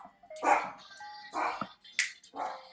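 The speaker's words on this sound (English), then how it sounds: "I don't know who this dog is. Who's barking?" A dog barks indoors near a door just after a doorbell rings, giving three loud, separate woofs about a second apart, with a short whimpering yelp between them and no talking over it.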